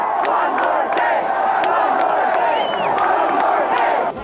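A large crowd at a presidential campaign rally cheers and whoops continuously, a dense roar with scattered shouts and whistles, loud and sustained throughout.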